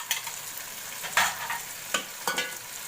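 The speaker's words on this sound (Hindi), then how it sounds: "इसको चिकन को भून लेना ताकि इसकी कच्चा पानी का दूर हो जाए" Chicken sizzles in a hot pan, a steady frying hiss broken by several scraping stirs of a spatula, close and fairly loud.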